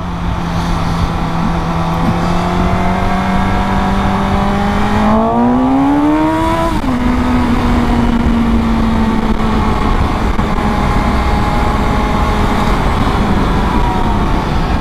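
The engine of a Suzuki GSX-S750 motorcycle holds a loud steady drone, then climbs sharply in pitch toward the red line, peaks and settles back to a high idle hum.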